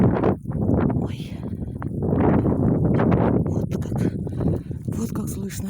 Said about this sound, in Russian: Вот как слышно ветер.